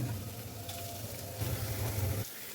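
Chopped garlic, ginger and green chili sizzle in a couple of tablespoons of hot cooking oil, making a steady close crackle and hiss that swells briefly midway and then drops off near the end.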